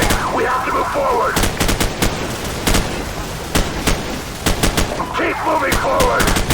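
Heavy gunfire in the Call of Duty 4: Modern Warfare campaign battle, with loud rapid bursts of automatic fire and distant booms. Shouted soldier voices and a constant battle din run underneath.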